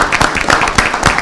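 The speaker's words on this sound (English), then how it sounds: "Can I get a round of applause?" Applause breaks out at a city council meeting honoring a resident, with clustered claps and a few louder strikes across a short, steady burst.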